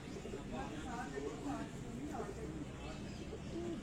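A fancy pigeon belonging to a pigeon keeper coos softly in low rolling phrases on a rooftop in Kasur, half buried under steady nearby talking.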